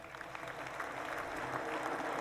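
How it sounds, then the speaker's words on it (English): Canned applause drop played during a podcast, a steady patter of clapping with a crowd-like wash, fairly faint and continuous for a couple of seconds. "Round of applause for us."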